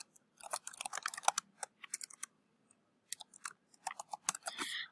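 Fingers typing a message on a computer keyboard, a close, quick run of uneven key clicks in short bursts separated by brief pauses.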